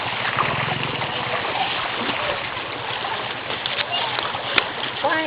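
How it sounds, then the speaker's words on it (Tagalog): Strong river current rushing and splashing steadily around bathers in shallow water, a broad continuous wash with occasional sharper splashes, while people talk nearby. "Ang lakas ng agos."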